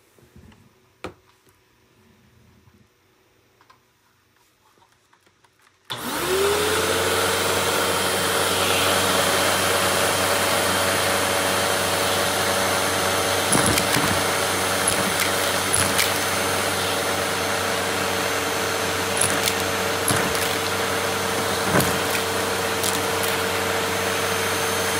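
A Hoover Shredder vacuum cleaner with a brush tool switches on after a few seconds of near quiet with faint knocks, then runs loud and steady with a high motor whine and occasional clicks.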